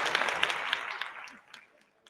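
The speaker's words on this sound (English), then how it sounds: "definitely got to give him a round of applause" Applause that starts fairly loud with a few distinct claps standing out, then thins and fades away over about two seconds.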